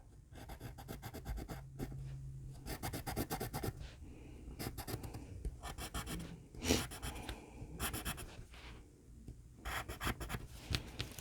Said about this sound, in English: So I'm going to scoot this and pencil where it needs to be cut again.